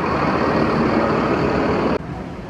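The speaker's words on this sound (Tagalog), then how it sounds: "Maaga pa lang traffic na." Busy early-morning street traffic in a market area, a steady dense rumble of trucks, buses and cars close by that drops off sharply near the end.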